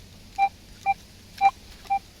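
A metal detector test in soil over a buried Catherine the Second five-kopeck coin, giving four short, evenly spaced beeps that sound fairly faint and distant.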